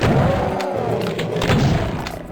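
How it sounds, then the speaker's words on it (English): A super shotgun in Doom II fires with a heavy boom, followed by thudding impacts and rumbling game noise across a short, loud stretch. "This time I'll just use the super shotgun."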